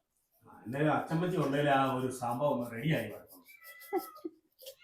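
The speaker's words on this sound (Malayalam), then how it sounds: "പൂച്ച വന്നടാ" Loud, drawn-out cat meows close by, a few calls in a row, followed by softer household noises and a faint voice.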